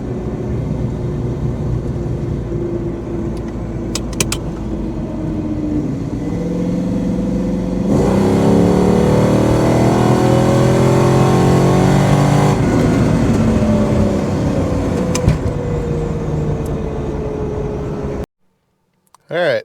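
A cammed LT1 Camaro engine being tuned roars through a wide open throttle pull, loud and close, its pitch climbing steadily over several seconds before the revs drop and it cuts off abruptly.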